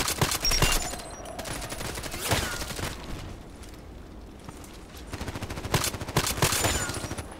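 Long-range sniper rifle shots in a shooting game, several sharp reports spaced seconds apart over a steady background, fairly loud with no voices.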